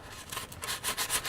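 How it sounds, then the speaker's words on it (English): Sandpaper block with 80 grit rubbing across a vehicle's rusty undercarriage, a steady rough scraping in repeated close strokes with a regular back-and-forth rhythm, heard alone. "So now what we're going to do is we're going to sand it."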